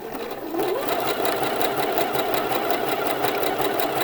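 Sewing machine stitching a T-shirt hem in a steady, rapid mechanical whir with rhythmic needle clatter, close up and alone.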